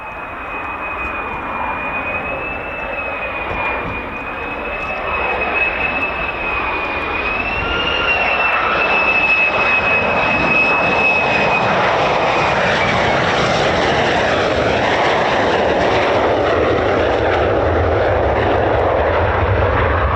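Fighter jets, F-15s and F-35s at RAF Lakenheath, roar loudly overhead. The sustained jet noise swells about halfway through and then holds at full strength, with a high whine riding on top and no voices.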